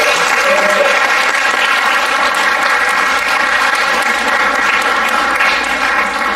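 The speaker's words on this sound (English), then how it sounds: "could we all give her a big round of applause again?" Audience clapping after a solo dance performance at an arangetram, a loud, continuous wash of many hands filling the room, steady from start to finish with musical tones faintly underneath.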